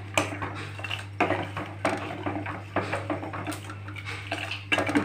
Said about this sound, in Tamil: இட்லி மாவு கலந்துட்டேன் நான்